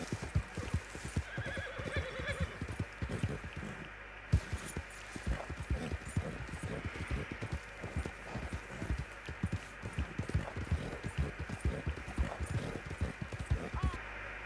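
Horses ridden quickly toward a hunting camp, with a steady stream of close, loud hoofbeats pounding in an irregular gallop rhythm and a whinny rising early on over soft background noise.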